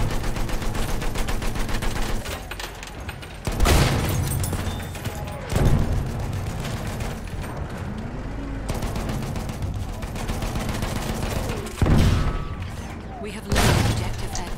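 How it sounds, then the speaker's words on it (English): Battlefield 1 combat rumbles with heavy mortar explosions, several loud booming blasts spaced a few seconds apart over continuous gunfire and machine-gun chatter. "Lots of mortars."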